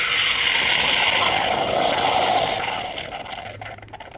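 A pressure washer pump runs during winterizing, giving a steady close hiss and mechanical whir that holds for a few seconds and then tapers off.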